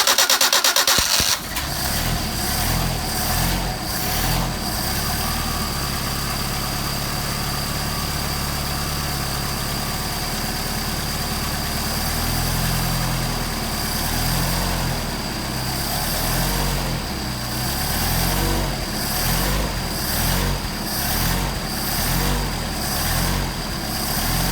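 A Mercedes 190SL fitted with Solex 44PHH carburetors cranks and fires up near the start, then settles into a steady, loud idle that carries on alone with a slightly uneven throb and no talking.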